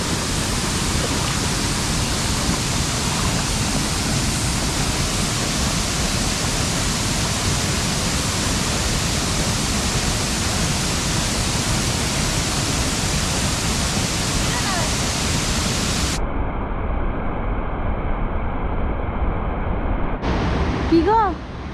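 Falls at a campground where people come to bathe, a steady broadband rush of pouring water, loud and close, cutting off near the end to quieter background before returning briefly.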